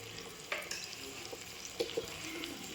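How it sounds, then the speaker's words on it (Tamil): Spleen frying in a pan with coriander powder, a low steady sizzle with a few soft stirring clicks and scrapes. "மண்ணீரல் போட்டுட்டு ஃப்ரை பண்ணலாம்."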